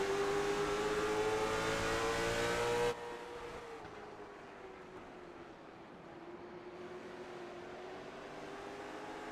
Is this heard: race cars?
yes